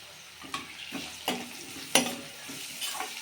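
Onions and salt fry in a pan for chicken curry, stirred with a spoon that scrapes in several quick, uneven strokes over a soft, continuous sizzle, close and fairly quiet.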